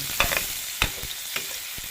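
Chopped onion and tomato stirred in a hot frying pan for pork monggo: a few close, distinct scraping strokes of the spoon over a low, steady sizzle, with no talking.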